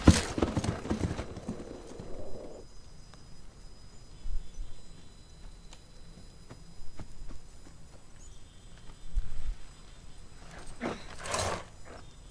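Horse hooves clip-clop in the video game The Last of Us, a soft, fairly distant walking rhythm under game ambience and scattered louder noises.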